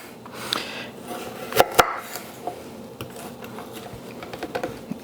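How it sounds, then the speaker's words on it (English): A knife slices carrots into rounds on a cutting board, giving a few sharp, crisp cuts early on followed by a run of lighter, quicker taps, close and fairly quiet. "So all we're doing is cutting them into slices like this."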